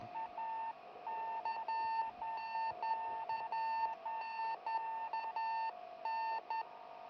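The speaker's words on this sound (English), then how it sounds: "The beeping sound you hear is a radio beacon on the Soyuz spacecraft" A steady electronic beeping from the radio beacon of a descending Soyuz MS-17 spacecraft repeats in regular bursts of high tones over a faint constant hum, with no voices.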